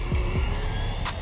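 A Team Associated Datsun 620 RC mini truck punches off the line, its electric motor whining up in a quick rising sweep with tire noise, close and fairly loud over a steady background hum.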